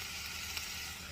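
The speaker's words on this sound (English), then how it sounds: "boy, it's really sizzling now" Steady, close sizzling of food frying in a hot pan, a dense crackling hiss throughout with no voices.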